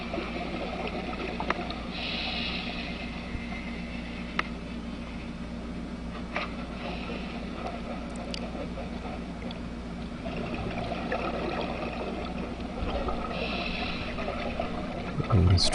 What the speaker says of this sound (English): You can hear a boat on the surface.